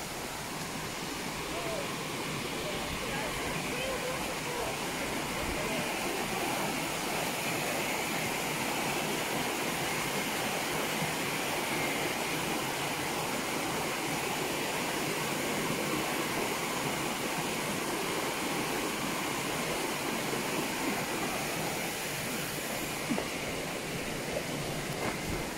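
Indoor rainforest waterfall at the Eden Project, a steady broad rush of falling water, continuous and fairly faint, with no clear voices over it.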